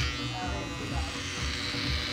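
Electric clippers buzz steadily as a barber takes hair down shorter in a barbershop before a shave, a continuous close hum with a voice talking over it.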